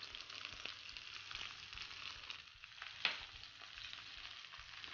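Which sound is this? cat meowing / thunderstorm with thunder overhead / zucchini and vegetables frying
zucchini and vegetables frying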